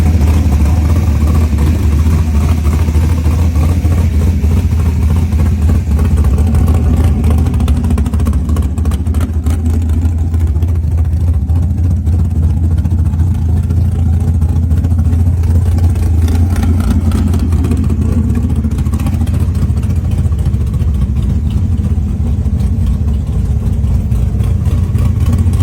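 A 1967 Chevrolet Camaro pro street hot rod rumbles close and loud for the whole stretch, a deep steady idle that swells with throttle blips partway through before settling back to its heavy lope.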